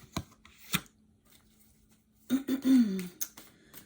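A few quick papery riffles of a Spellcaster's Tarot deck being shuffled, close up, with a brief pause between bursts and a soft throat-clearing sound near the end.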